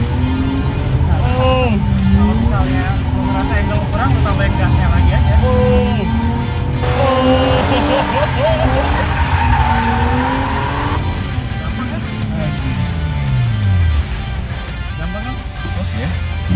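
A BMW E36 drifting with clutch kicks: a loud engine revs up and down in sweeping surges, tires squeal continuously, and someone talks throughout.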